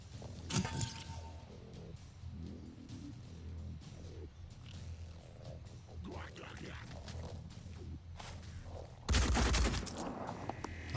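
Gunfire in the squad tactics game Phoenix Point rattles in repeated bursts throughout, with a loud blast near the end, mixed with game effects and no talk.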